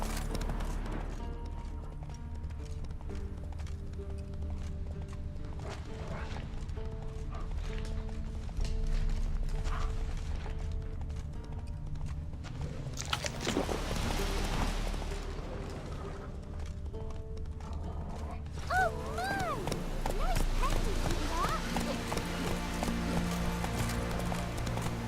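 A horse gallops in The Witcher 3, steady clip-clop hoofbeats running under game music and ambient sound effects, with a louder whooshing swell midway and no talk.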